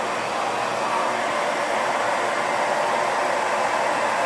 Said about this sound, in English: Now I'm diffusing away from my scalp. Cool shot.